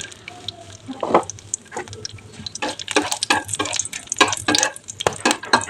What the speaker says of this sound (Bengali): এতে দিয়েছি গোটা গরম মশলা, এলাচ, দারচিনি, লবঙ্গ আর একটা শুকনো লঙ্কা।